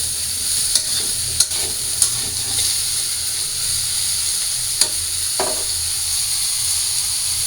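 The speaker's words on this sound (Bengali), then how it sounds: "সয়াবিনগুলো এখন ভাজা ভাজা করে নিই" Soybean chunks fry in a pan with a steady sizzle and hiss, and a spoon scraping through them stirs and clicks against the pan a few times, close and clear.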